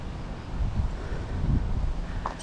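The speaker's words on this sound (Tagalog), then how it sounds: "Sobrang lakas ng hangin pag ganitong oras." Steady, loud wind at San Nicolas Sky Plaza, Pangasinan, around 7 PM, buffeting the microphone in a low rumbling roar, with gusts swelling and easing and no voices.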